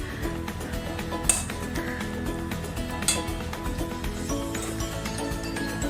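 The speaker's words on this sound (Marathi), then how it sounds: "केळं असं स्मॅश करून घ्या, असं काटे चमच्याने" A metal fork mashes ripe banana against a bowl for sweet gulgule batter, making repeated soft rubbing and scraping with occasional light clinks of metal on the dish, close and steady without speech.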